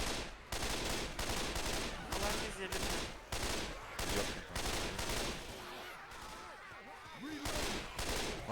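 Combat rifle fire in the video game Left 4 Dead 2 rattles out in repeated loud, close bursts of rapid shots separated by short gaps, with faint voices underneath toward the end.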